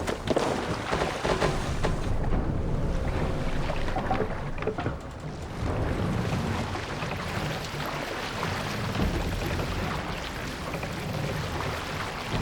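A Viking longship heading out to sea in Assassin's Creed Valhalla, a steady broad wash of water and wind rushing against the hull that holds constant and fairly loud throughout, with no talking.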